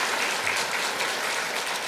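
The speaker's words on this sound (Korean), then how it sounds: "그래서 통틀어서 박수 치도록 하겠습니다." A congregation at a Christmas Mass in a Catholic church applauds the choir, accompanist and servers with brief, dense, steady clapping that fills the space evenly.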